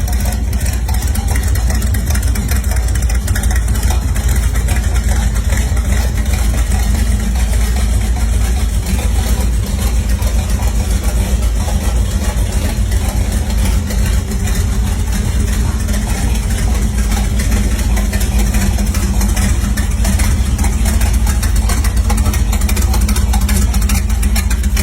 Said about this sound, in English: This 1932 Ford Coupe is a street rod with serious muscle